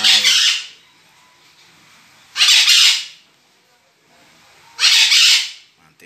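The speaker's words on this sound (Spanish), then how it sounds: "Y el sonido de las cotorras." Pet parakeets give three loud, harsh squawks spaced a couple of seconds apart, each a short, piercing burst close by with near silence between.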